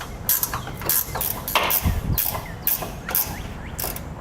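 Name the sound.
ratchet removing 13mm bolts from heat shield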